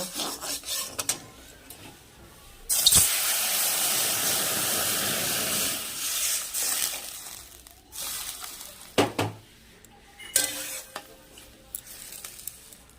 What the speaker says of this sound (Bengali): এবার আমি এর মধ্যে জল ঢেলে দেবো